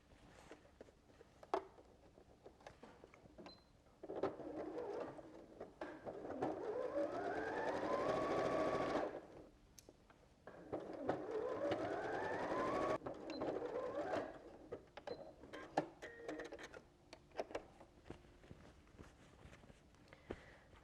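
Quilt block seams run through a sewing machine in two steady bursts of whirring stitching, each a few seconds long, separated by a short pause, with light handling clicks of fabric before and after.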